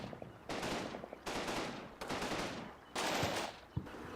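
Machine gun fire in the Combat Mission: Red Thunder battle game, four long rattling bursts separated by short pauses, moderately loud and unaccompanied by talk.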